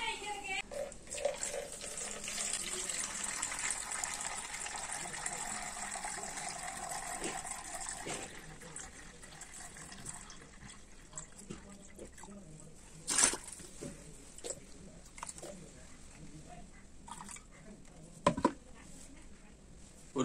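Water is poured for a homemade soap batch as a continuous splashing flow that is strong at first and then thins out, with a few sharper clinks and knocks near the end.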